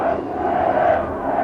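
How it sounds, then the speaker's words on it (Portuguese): Dense roar of a Brazilian crowd at a Grand Prix race in Brazil, sustained loud cheering from many voices with no distinct individual sounds. "A torcida não para."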